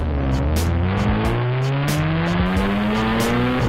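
A drift car runs the L track at Evergreen, its engine loud and close as it revs and climbs through rising gears, with quick lifts and stutters on a constant roaring bed.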